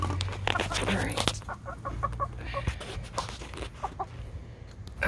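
Soft chicken clucks and squawks scattered through a room with low background hum, a few clucks close, interspersed with quieter shuffling.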